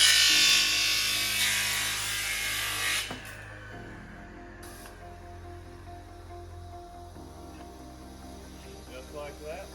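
An air-clamped cutoff saw bites through angle iron with a loud, harsh whine for about three seconds, then winds down into a quieter hum.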